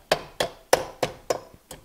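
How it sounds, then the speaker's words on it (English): A small hammer taps nubbins into place on a Stihl MS391 chainsaw during servicing, giving six sharp, evenly spaced knocks, close and clear, with nothing else heard. "You gotta take something like a small little hammer"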